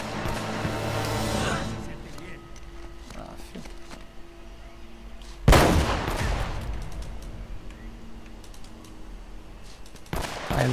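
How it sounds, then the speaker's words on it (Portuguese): Gunfire bursts and loud impacts in the video game Uncharted: Drake's Fortune, with a sharp blast midway and another near the end, layered under ongoing game sounds. "Tá ali atirando, chamando a atenção dos caras"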